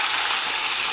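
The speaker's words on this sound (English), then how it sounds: "I'm just going to place my first salmon on there. Oh, check that out. That's sizzling already." Salmon fillet sizzling in a hot oiled pan, a dense, loud, continuous hiss of frying with no break, heard alone.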